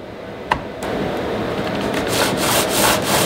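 The side cover of a Husqvarna 445E chainsaw is pushed back onto the bar with a sharp click, followed by close, continuous scraping and rubbing of plastic against metal that grows slightly louder.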